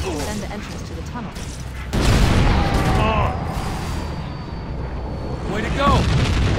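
Covenant tanks fire in a Halo CE Anniversary battle, with heavy booming blasts and rumbling explosions layered over continuous battlefield noise, loud and close, while voices call out during the fight.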